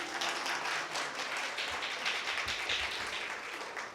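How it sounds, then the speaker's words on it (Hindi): Applause from a church audience at a Sunday cultural program, a steady wash of many hands clapping at moderate level from start to finish, with a few low thumps underneath. "ताली रुकनी नहीं चाहिए"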